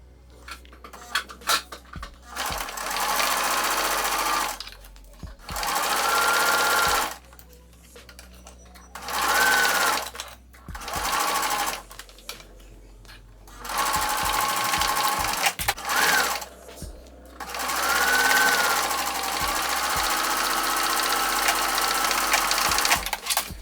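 A sewing machine runs in bursts while top stitching a corset, each steady whirring run of stitches lasting a few seconds, separated by short pauses and small clicks as the fabric is adjusted.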